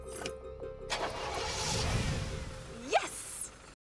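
A cartoon car engine cranks and catches, building into a broad roaring rumble that swells and fades over a few seconds, with a rising whooshing sweep near the end.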